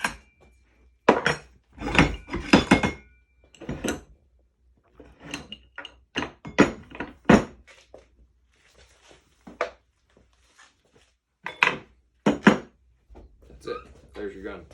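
A Browning M37 shotgun is being taken apart, giving a dense series of close metallic clicks, clacks and knocks of the parts, with someone talking throughout.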